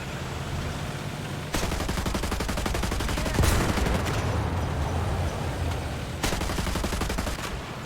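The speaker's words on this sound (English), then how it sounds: "Multiple machine guns, I like that. High rate of fire." Tank machine guns on an M1 IP Abrams, T-80B, Leopard or T-55 in War Thunder, rattling off rapid high-rate bursts with short pauses between them, loud and close.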